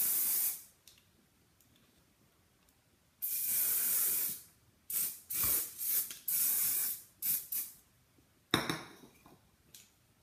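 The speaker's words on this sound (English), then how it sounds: "just put some hairspray to seal the color" Hairspray aerosol sprayed onto doll hair to seal a temporary dye, heard as one long hiss followed by a run of shorter bursts of varying length, close and loud, with quiet pauses between.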